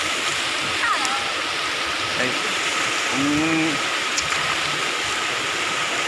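Water rushes steadily at Bagacay Dam, a constant broad roar throughout, with a few brief voices and bird-like chirps over it.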